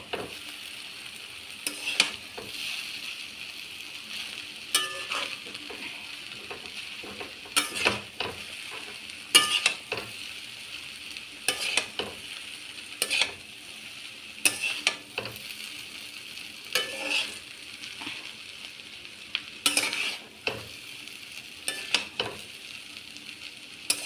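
Chow mein ingredients stir-fried in a pan, a soft continuous sizzle punctuated by regular scraping, clanking strokes of the spatula over about twenty seconds, no voices.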